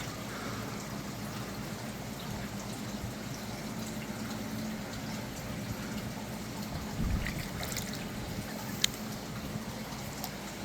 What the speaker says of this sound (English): So now we've got a lot better water flow through here.